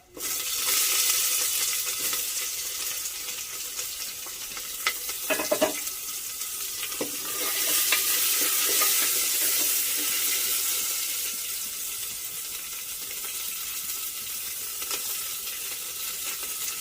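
Onions frying in oil in a pan after dried prawns were browned, a continuous close sizzle with a few stirring knocks and scrapes, swelling slightly midway.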